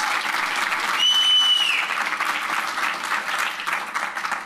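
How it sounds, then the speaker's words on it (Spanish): A congregation at a church youth service claps for Jonathan in sustained, dense applause that fills the room, with a brief whistle-like tone near the start. "Denle un fuerte aplauso a Jonathan que se paró por primera vez."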